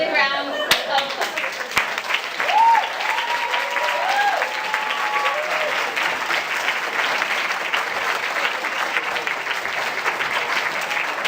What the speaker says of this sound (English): we're all going to give them another big round of applause